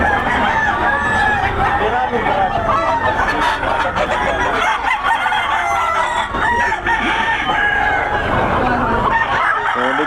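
Several roosters crow and cluck at a festival expo. The calls overlap loudly and continuously, set against a busy crowd background.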